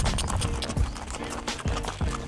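Horses on a Cuban tobacco farm clip-clop steadily nearby, with a rhythm of hoofbeats on hard ground at moderate loudness and some faint background rustling.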